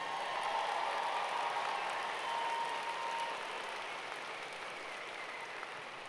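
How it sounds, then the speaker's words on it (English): Graduates and guests at a university commencement ceremony applaud together, a steady wash of clapping from a large crowd in a big hall, slowly fading toward the end. "You can give yourself a round of applause."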